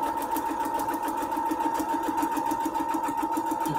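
A sewing machine stitches a foundation paper pieced quilt with a steady, fast, close mechanical whir and rapid rhythmic needle ticking, running continuously with no talk.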